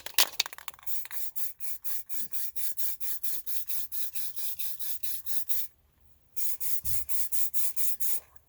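Repeated short hissing bursts of a cold aerosol spray paint can, rhythmic and close, with a pause before the spraying resumes.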